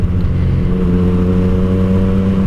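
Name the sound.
Yamaha FZ-09/MT-09 motorcycle with aftermarket exhaust revving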